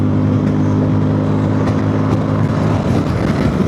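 A Zontes 368G or Honda ADV 350 scooter engine pulled hard at full throttle, its steady loud drone rising slightly in pitch over a few seconds, close and continuous with wind noise.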